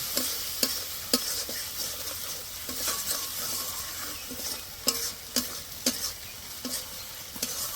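Ginger and garlic paste fries in a pan while a spatula stirs it, giving a continuous sizzle punctuated by regular scraping knocks against the metal, close and fairly loud.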